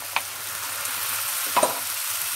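Soft, steady sizzle of a ground spice paste frying in a pan, with a couple of brief splashes and bursts as a little water is poured in, close and without talk.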